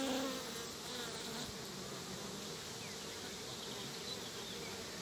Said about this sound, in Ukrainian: От наші трутня і тут літають.